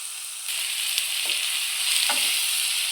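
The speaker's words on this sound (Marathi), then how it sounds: "त्यात आपल्याला टाकायचा आहे कांदा कांदा एक दोन मिनिट आपण परतून घेणार आहोत" Chopped onion hits hot oil seasoned with bay leaf and a spice leaf for egg masala, bursting into a bright, continuous sizzle after a short quiet start, with a couple of soft stirring knocks.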